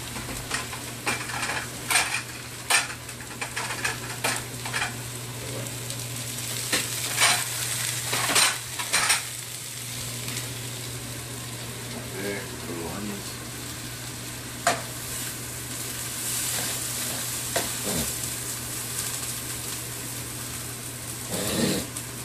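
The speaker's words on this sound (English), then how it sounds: "So basically just sauteing these steaks a couple of minutes on" Steaks sauté in a hot pan with a steady, close sizzle throughout, and utensils scrape and clink against the pan now and then. A low hum sits underneath.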